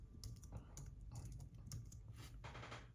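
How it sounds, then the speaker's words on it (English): Someone types on an iPad keyboard dock, a quick irregular run of soft key clicks close by with no talking, set against a low background hum. "nice keyboard that is far superior to modern iPad"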